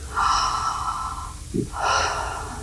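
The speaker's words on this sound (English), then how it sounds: "So we're breathing into our belly, relaxing the exhale." Deep belly breathing during a relaxation exercise: two long, airy breaths close to the microphone, each a slow, steady rush of air with a short pause between, no talking.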